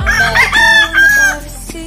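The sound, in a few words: chickens and rooster crowing in backyard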